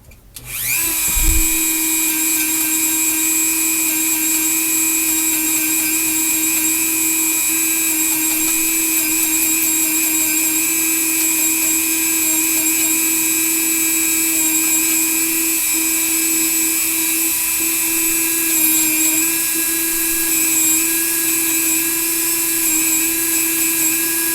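A small Dremel rotary tool with a sanding bit spins up and whines at a constant high pitch, running steadily and loudly close by without pause.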